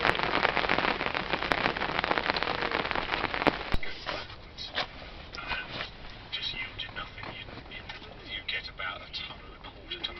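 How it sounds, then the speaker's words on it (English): Rain patters steadily on a surface, heavier at first and then lighter, with a bird cooing and a person speaking in places. "But we have got rain"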